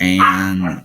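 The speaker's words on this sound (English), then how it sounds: "my dog you're listening to in the background" A single drawn-out bark or whine from a pet dog somewhere in the room, close and fairly loud for under a second, with a brief spoken word at the start.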